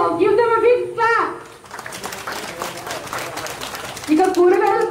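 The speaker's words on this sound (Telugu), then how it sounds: "so give them a big clap" Children's voices heard in bursts at the start and end around a stretch of scattered clapping from a gathering at a distribution of groceries to sanitation workers in Tadikonda.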